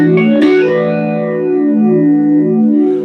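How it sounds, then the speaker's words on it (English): A Strymon Mobius modulation pedal on its elliptical flanger-like setting processes a sustained guitar tone, with a swirling, sweeping comb-filtered shimmer that wobbles steadily throughout, loud and alone. "So it's like a flanger."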